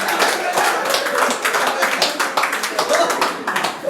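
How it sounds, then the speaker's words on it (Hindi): Comedy open-mic audience clapping in a dense burst, steady and fairly loud throughout with a busy room murmur underneath. "एक बार जोरदार तालियां इसके लिए।"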